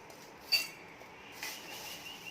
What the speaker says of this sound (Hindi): अब फ्राई की हुई भिंडी को एक बोल में ट्रांसफ़र करेंगे।